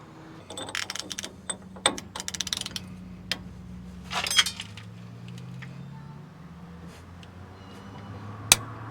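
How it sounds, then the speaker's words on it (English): Light mechanical clicks and ratcheting clinks from a torque wrench on the axle nut of a Ford F250, scattered irregularly over a quiet background, with a cluster of clicks in the middle and one sharp click near the end. "Now we're gonna proceed to loosen it until I hear 8 clicks."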